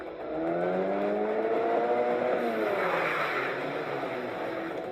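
A car slides at high speed into a parallel parking space, giving a rising engine rev and a long tire squeal, loud and close, then a fading roar, with no talk.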